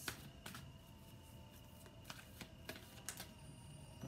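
Tarot advice cards being shuffled by hand, a few quiet riffling bursts and soft flicks over a faint background hum, close and low in level, without speech.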